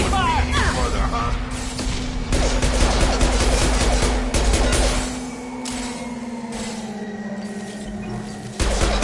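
Heavy gunfire rattles in bursts through a Mass Effect Legendary Edition firefight, loud and close with crashes and booms mixed in, a steady drone underneath and voices shouting over the shooting.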